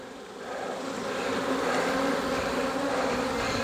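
Honey bees buzz densely at a hive during an inspection as brood frames are shaken, a loud, steady swarm drone that swells slightly and holds without pause.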